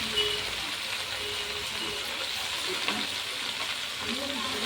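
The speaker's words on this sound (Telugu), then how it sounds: "ఇదే కడాయిలో అందులోనే ఒక కట్ట గోంగూరని వేసి కాస్త ఫ్రై చేసుకోవాలి." Gongura leaves frying in a kadai give a steady, fairly quiet hiss that runs the whole time. Faint clinks and soft scraping drift underneath.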